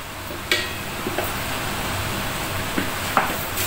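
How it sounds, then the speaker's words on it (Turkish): Steady sizzling of food frying in a pan in a home kitchen, broad and hissy, with a few light clicks and taps of utensils now and then. "Evet, bunu da kızartalım canlar."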